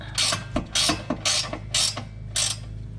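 Ratchet wrench tightening a nut on a Subaru Outback front sway bar link, five bursts of rapid clicking ratchet strokes with short pauses between, close and fairly loud.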